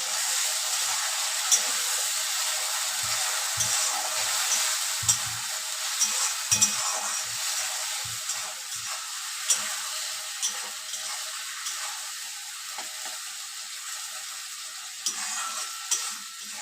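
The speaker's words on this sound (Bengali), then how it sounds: "মশলাটা এখন 3 থেকে 4 মিনিট লাগবে এটা আলুর সাথে কষাতে" Ground spice paste fries with potatoes in a pan for a Bengali bata fish curry. A steady, close sizzle hisses throughout, broken by soft scraping and clicking as the mixture is stirred.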